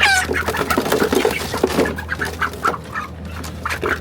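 A group of broiler chickens clucks loudly and busily close by, overlapping calls in a continuous chatter with no talking.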